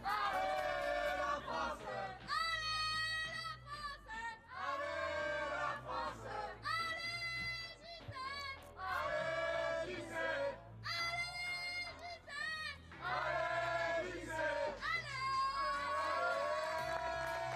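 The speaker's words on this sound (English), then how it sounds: "The French crowd getting right behind Valladont." A French crowd at a European recurve archery gold-medal match in Lilleshall roars and cheers in repeated loud surges, with shouts rising and dipping and brief lulls between bursts.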